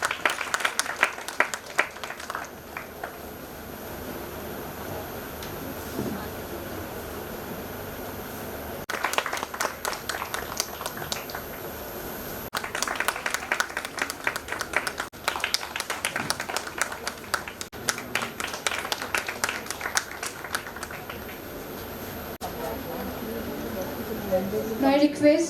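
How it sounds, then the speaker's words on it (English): Audience applause at a nursing conference, arriving in bursts of clapping that swell and drop away, with a speaker's amplified voice talking between and over the claps in a large hall. "Big round of applause, please."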